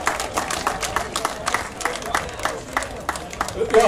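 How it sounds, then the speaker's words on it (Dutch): Audience applause for cyclist Diederik Scheltinga at the Ronde van Gendt cycling race, with a steady patter of claps running throughout and mixed with crowd chatter and voices. "En natuurlijk ook nog een groot applaus voor Diederik Scheltinga, dames en heren"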